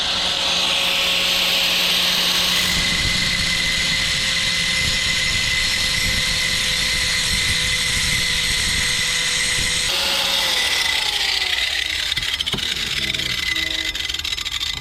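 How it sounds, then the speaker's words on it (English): A 10mm socket is ground down to make it shorter, producing a loud, continuous whining grind with a steady tone that shifts and roughens after about ten seconds. "what I'm gonna do is I'm gonna take my 10mm socket and grind it down some"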